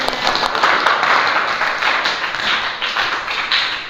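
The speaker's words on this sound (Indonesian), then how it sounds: "tepuk tangan untuk kita semuanya" Students clap together in a classroom, a loud, dense burst of applause filling the whole moment, steady and close, with no talk over it.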